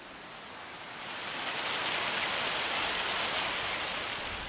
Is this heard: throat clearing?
no